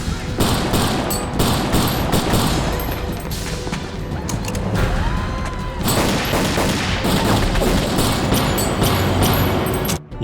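Dense, loud gunfire rattles in rapid bursts with booming thuds, continuous and chaotic across the whole stretch, like a close-range firefight.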